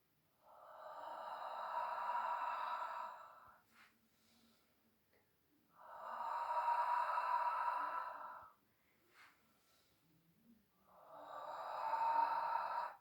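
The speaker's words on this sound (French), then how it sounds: "Mon inspire est rapide, mon expire est long." Slow yoga breathing during a hatha warrior pose, heard as three long, loud, hissing exhales at a steady pace, each separated by a brief quick inhale and short quiet gaps, close and without talk.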